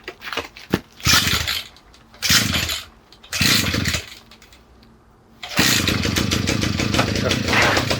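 A new brush cutter being pull-started on a pear farm in Naju, with several short sputtering bursts from separate pulls, then the small two-stroke engine catching and running steadily and loudly, with someone talking between attempts.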